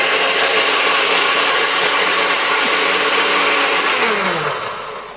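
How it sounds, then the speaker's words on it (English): A kitchen blender whirs loudly while blending juice, a harsh, steady motor roar that holds for several seconds before its pitch sags and the noise winds down at the end. "you danced to the blender noise"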